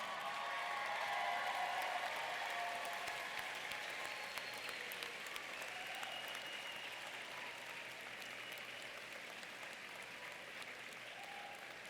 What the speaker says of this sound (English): please stand and give a big round of applause for your family and friends